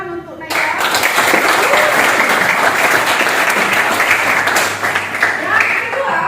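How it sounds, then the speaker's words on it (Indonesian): Classroom applause, a burst of steady clapping from a group of students that starts suddenly and continues evenly before tapering off. "berikan tepuk tangan untuk Naila."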